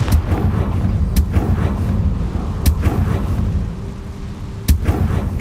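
Confringo blasting spells explode in the video game Hogwarts Legacy as a series of loud, booming blasts at irregular intervals. They sit over a continuous rumbling, windy background.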